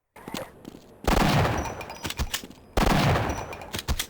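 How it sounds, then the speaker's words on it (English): Two loud, booming shotgun blasts from the secondary fire in Half-Life, each a sharp crack with a long decaying rumble, spaced about 1.7 seconds apart after a quieter stretch of game sound. "the secondary fire, oh baby, now that's a shotgun"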